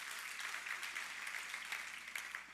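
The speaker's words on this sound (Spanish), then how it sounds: "Vamos a darle un aplauso al Señor por eso" A church congregation claps together for a few seconds, a fairly faint, even patter of hands in a hall with no voices over it.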